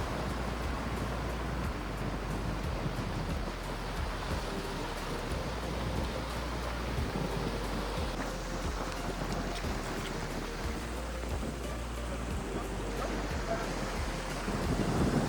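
Ocean surf washing steadily onto a wide beach at Diveagar–Shrivardhan at low tide, with the water far out; a continuous loud wash of waves mixed with heavy wind rumble, with no talk.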